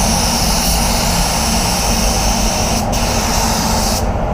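A spray gun hisses steadily and loudly as paint goes onto a Volvo S60 panel, one unbroken close-up blast with a momentary dip near the end.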